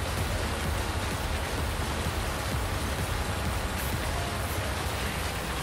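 Steady rain pours in a farming game, a dense, even hiss with soft low patter that holds at the same level throughout, with no voices over it.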